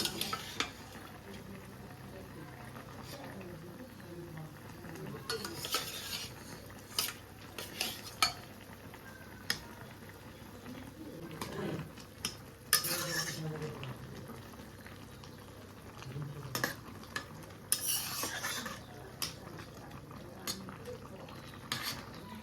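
Bitter greens cook in a pan over a soft bubbling sizzle while a metal utensil stirs them, with scattered sharp clinks and scrapes against the pan at irregular intervals and some faint voices in the background.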